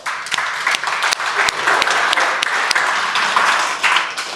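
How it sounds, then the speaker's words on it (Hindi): Students in a classroom clap their hands together as a group, a close, loud run of uneven, overlapping claps that carries on steadily without a break. "एक बार ताली बजा के देखो, आपके सारे टेंशन दूर हो जाएंगे"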